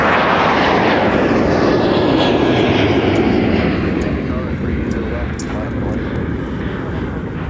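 An airliner takes off at Minneapolis–St. Paul airport and climbs out, a loud, broad jet roar that dominates throughout and slowly eases as it moves away.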